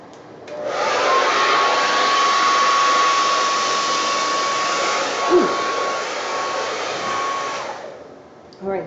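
A hair dryer blows steadily onto a wet acrylic pour painting for several seconds, a loud continuous whoosh with a thin whine running through it, cutting off near the end with a faint clatter.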